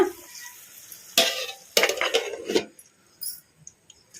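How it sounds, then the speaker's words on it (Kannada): Drumstick (moringa) pieces fry in oil in a covered pan over a low flame, with a faint sizzle broken by a few sharp bursts of scraping and clattering cookware. "ನುಗ್ಗೆಕಾಯಿನ ಒಂದೆರಡು ನಿಮಿಷ ಎಣ್ಣೆಗೆ ಫ್ರೈ ಮಾಡ್ಕೊಂಬಿಡೋಣ"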